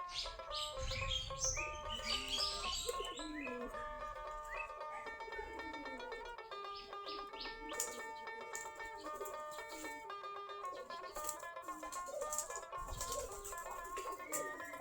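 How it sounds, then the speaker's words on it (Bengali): A flock of native Bangladeshi Giribaj pigeons gathered at their loft fills the air with busy chirps, flutters and scattered calls, layered and fairly close, with occasional sharper bursts of activity. "সম্পূর্ণ দেশি গিরিবাজ কবুতর।"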